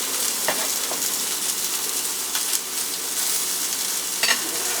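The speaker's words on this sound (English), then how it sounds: "So now we need to get onions" Steady crackling sizzle of onions frying in a pan, with a few brief clinks and scrapes of stirring, close up and moderately loud.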